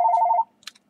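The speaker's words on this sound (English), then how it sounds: "Oh, that's my phone, guys. I'm going to have to stop my video." A mobile phone rings with a short steady electronic tone lasting under half a second, then cuts off, followed by a faint click, in an otherwise quiet room.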